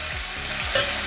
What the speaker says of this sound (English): I want to get a nice sizzle on them, a nice color on them.